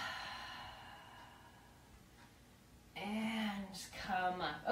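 A soft, drawn-out breath during a yoga session in a forest, with a low, steady airflow that gives way to a voice speaking at the end.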